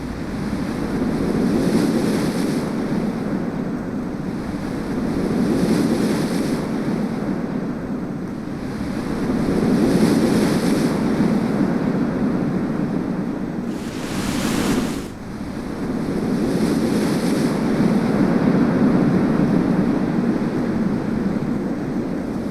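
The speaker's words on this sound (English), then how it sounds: "At the top of the reef, waves break with tremendous power" Powerful ocean waves break in repeated surges over a coral reef crest, a loud, rolling wash with swells rising and falling every few seconds and a brief hissing burst midway, no voices.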